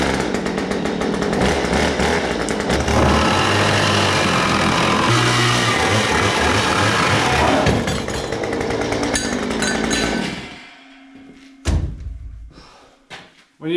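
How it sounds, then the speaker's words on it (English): A chainsaw roars loudly as it cuts through wooden shelving in a barn for about ten seconds, then cuts out, followed by a few knocks and clunks. "you tend to use a chainsaw instead of a jigsaw or a reciprocating saw"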